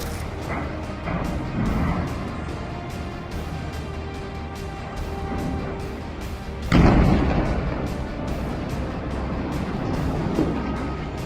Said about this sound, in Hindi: तूबस ब्रिगेड द्वारा जारी किए गए इस वीडियो में एक भीषण गोलीबारी को देखा जा सकता है।